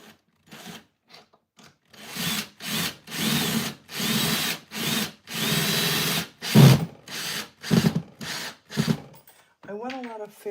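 Power drill whirring in short repeated bursts as screws are driven into a wall in a studio, close and fairly quiet, with brief pauses between runs and a voice near the end.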